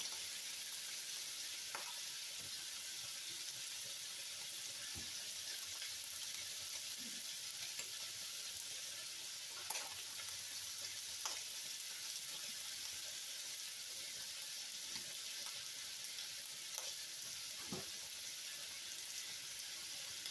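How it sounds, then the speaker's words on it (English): Chopped onion frying in a pan for a taco pasta casserole, a soft steady sizzle with occasional faint clicks and stirring scrapes, quiet and continuous with no talking. "And now we're going to add our chopped onion."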